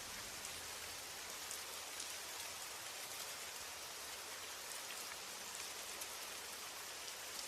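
Steady rain falls as a soft, even hiss with faint scattered drops, continuous and quiet, with no voices and no other sounds.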